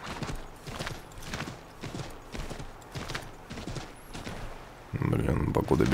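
Rhythmic hooves of a galloping horse in the video game Assassin's Creed III, steady repeated thuds at a moderate level, followed by a brief louder burst of noise at the end.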